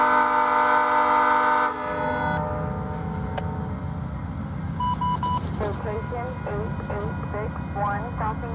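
VIA Rail passenger train 87 pulls out of a station, its horn sounding steadily at first before the low rumble of the moving consist takes over, with a voice speaking over it.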